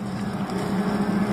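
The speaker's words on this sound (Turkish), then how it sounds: "Sulama hortumlarını traktörle sarıyorlar." Tractor engine droning steadily while winding irrigation hoses in a farm field, a continuous low rumble at moderate distance with no talk.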